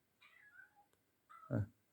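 A cat gives two short meows close by, the second one louder and lower, with a brief quiet gap between them.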